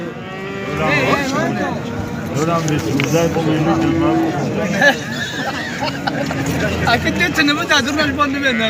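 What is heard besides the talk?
cow mooing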